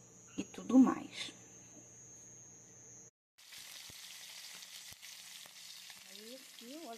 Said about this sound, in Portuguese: Aí agora eu vou cortar em rodelas para fazer fritinho ali na frigideira com cebola, temperinho e tudo mais.